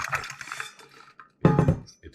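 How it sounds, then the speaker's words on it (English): Ice cubes rattle and clatter inside a 64 oz insulated water bottle, two bursts of knocking shaken close up with a short pause between them. "it still has ice in it."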